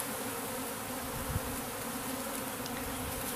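A swarm of honey bees being shaken into a box gives off a dense, steady buzzing hum that fills the air without a break, close and constant.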